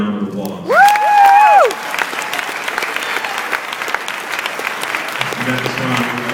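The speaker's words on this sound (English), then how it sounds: "Give him another round of applause." An audience at a graduate award ceremony breaks into sustained clapping that fills several seconds after a short tonal sweep, with a crowd murmur underneath.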